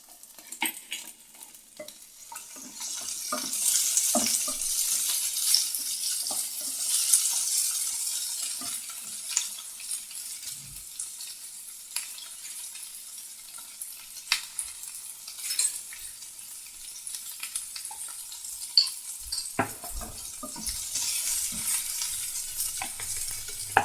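Tomatoes and capsicum frying in a pan for a Bengali thali are stirred, a continuous close sizzle broken by repeated scraping and clinking strokes of the spoon, with no voices.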